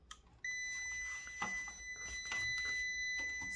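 A multimeter's continuity test gives a steady, high electronic beep that starts abruptly and holds on for about three seconds, with faint handling noise behind it.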